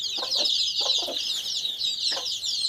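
A gavran country hen clucks in several short, rhythmic bursts nearby, set against a constant high-pitched chorus of chirping chicks and birds.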